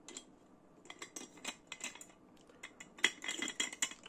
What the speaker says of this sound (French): Un autre réchaud alcool Lixada. Celui-ci avec des pieds